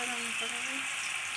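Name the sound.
potatoes frying in a wok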